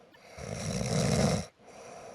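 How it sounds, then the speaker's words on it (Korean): A single loud, rasping snore swells and fades over about a second, followed by a short pause and quieter breathing. "코골이 소리가 심각하면 남에게도 피해를 줍니다"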